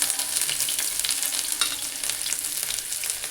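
Steady, bright sizzling of bay leaf and ginger-garlic paste frying in hot oil, a continuous crackling hiss without pause and no voices.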